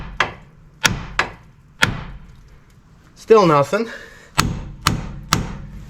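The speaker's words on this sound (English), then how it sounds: "So now I'm going to smack the side while I got all that pressure on it." Sharp, loud hammer blows on a stubborn outer tie rod end of a 2008 Chevy Equinox, about eight irregular metallic whacks with a brief spoken remark between them.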